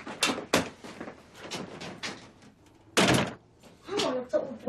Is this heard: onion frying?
no